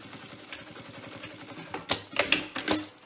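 A sewing machine stitches a reversible beach bag in a short rapid run, with close mechanical rattling followed by a few louder clunks and knocks at the end.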